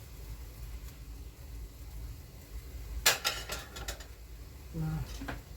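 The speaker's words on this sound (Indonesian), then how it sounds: "Kita aduk-aduk." A spoon stirs Indomie Goreng noodles in a bowl, a few quiet scrapes and clinks clustered near the middle, faint against a low background hum.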